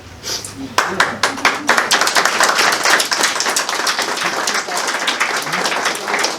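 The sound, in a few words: guests clapping at wedding speech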